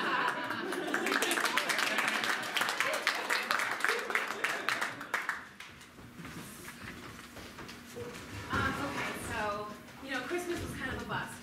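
An audience claps at a live comedy or improv match, a dense burst of applause for the first several seconds that thins out as people start talking over the fading claps.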